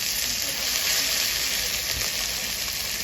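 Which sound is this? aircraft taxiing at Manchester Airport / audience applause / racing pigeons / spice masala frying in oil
spice masala frying in oil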